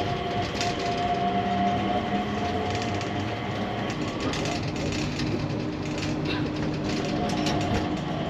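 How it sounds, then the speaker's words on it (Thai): Interior of a moving airport inter-terminal train, a steady rumbling hum with mechanical rattles and faint clacking, continuous and fairly loud, no one speaking. "มาเดี๋ยวจะนั่งรถไฟระหว่างเทอร์มินอลไปเทอร์มินอล2"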